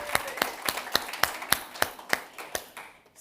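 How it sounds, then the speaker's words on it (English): A few people clap in a brief, sparse round of applause, about a dozen distinct claps at a steady pace fading out after three seconds, with no voices. "can we give Mark a quick round of applause?"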